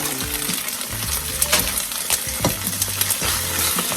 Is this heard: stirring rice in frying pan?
yes